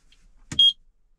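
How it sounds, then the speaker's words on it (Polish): A click, then one short, sharp electronic beep from a carbon monoxide detector as it switches on. It is close and loud, with near silence around it. "trzeba włączyć czujnik czadu, bo zamontowałem."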